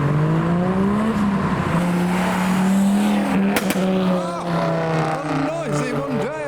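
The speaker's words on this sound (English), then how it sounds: "Oh, he revved right by the policeman." A car revs hard past a policeman at an evening car meet, its engine note climbing and falling as it drives by nearby, with other engines, a brief tire chirp and bystanders talking over the noise.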